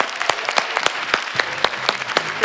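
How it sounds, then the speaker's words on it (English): An audience applauds a startup pitch team from Ukraine as it is welcomed onto a pitch-competition stage, a dense, steady burst of many hands clapping close by, with no talk over it. "Give them a big round of applause."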